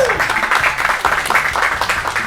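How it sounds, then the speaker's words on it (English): A room of attendees at a public adjuster marketing event applauds steadily, many hands clapping together in a dense, continuous wash, close and fairly loud. "A round of applause for Matt for putting this thing on"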